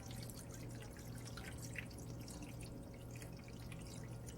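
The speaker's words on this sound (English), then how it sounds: "we're going to take some warm water and pour it into the pan so it comes about halfway up the sides of your ramekins" Warm water is poured into a baking pan around ramekins of classic crème brûlée, a steady close trickle and splash of liquid with no talking.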